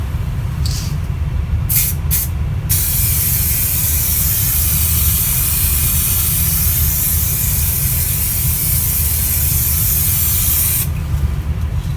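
SprayMax 2K polyurethane coat being sprayed from an aerosol can onto a carbon fiber tailgate for a Jeep Wrangler YJ: a loud, close, continuous hiss of spray lasting about ten seconds, after a few short test bursts at the start.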